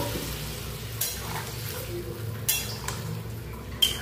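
Potato and cauliflower sizzle softly in a pan after water is added, a steady low hiss broken by a few sharp clinks of a utensil against the pan.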